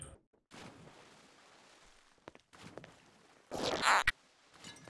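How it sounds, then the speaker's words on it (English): A short zipper rasp in the video game Prop Hunt, a few brief scratchy bursts ending in one louder zip near the end, with quiet gaps between. "I heard a little zipper."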